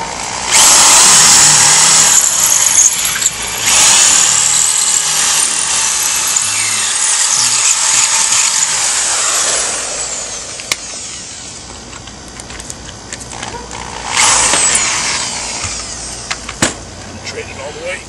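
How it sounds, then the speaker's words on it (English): A power drill with a large concrete bit grinds into concrete for an anchor bolt in long, harsh bursts, easing off midway and then revving hard again near the end, loud and close. "Gotta drill straight now."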